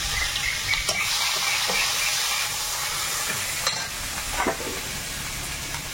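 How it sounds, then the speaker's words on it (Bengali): Dry red chillies, black cumin, chopped onion and crushed garlic fry in hot oil, giving a steady close sizzle with a few sharp scrapes and clinks of stirring throughout. "তেলের মধ্যে শুকনো লঙ্কা দিলাম, একটু কালো জিরে দেব, পেঁয়াজ কুচি অল্প, আর একটু থেতো করা রসুন"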